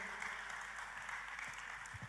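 Congregation applauding at a church worship service, a brief, quiet, steady wash of clapping.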